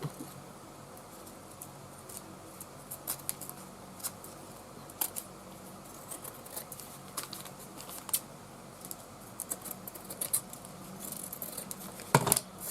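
Scissors trim paper for a handmade journal, giving faint, irregular snips and rustles close by over a soft background hiss.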